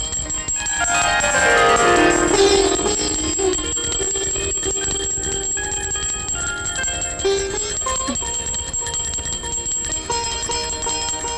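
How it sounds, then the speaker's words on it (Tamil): A metallic alarm bell rings continuously, its bright clanging tone holding steady and sustained throughout with no pauses. "என்ன இந்த அலாரம் நிக்கவே மாட்டேங்குது?"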